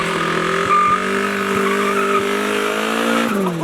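Race car engine running on straight Marvel Mystery Oil, idling rough with a steady droning hum and faint repeated knocking pulses, loud and close, no voices.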